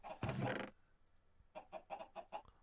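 Chickens in the video game Minecraft Stoneblock 2 let out a loud squawk, then a quick run of five or six short, evenly spaced clucks, with no talk.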